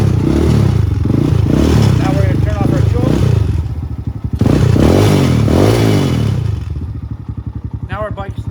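A motorcycle brought out of storage runs on choke, burning off old fuel, its engine loud and close with uneven revving and clattering, dipping briefly then settling into a steady throbbing idle.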